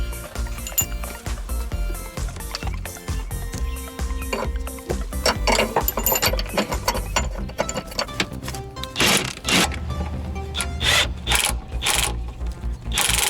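A ratchet tightening 24mm subframe bolts during a car lower control arm and spring replacement: rapid, loud clicking in repeated bursts with metallic knocks, close by and continuous, with no talk.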